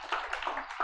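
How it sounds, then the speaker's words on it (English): Audience applause at a conference talk on an autonomous tunnel boring machine, a short burst of scattered clapping that rises and carries on for under a second. "Yes, you can clap."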